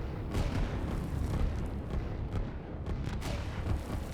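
Artillery fire in the strategy game Line War, a rumbling bed of distant booms and explosions with several sharper thuds standing out, continuous and fairly dense across the whole stretch.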